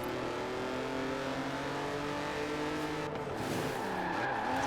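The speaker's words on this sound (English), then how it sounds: "Let's show them how a Horizon driver handles an e-brake." In the Forza Horizon 4 video game, a car is thrown into an e-brake drift, its engine droning while the tires skid and squeal continuously, with a sharper burst of tire noise near the end.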